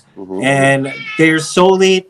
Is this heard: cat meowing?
yes